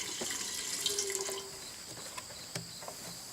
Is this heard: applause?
no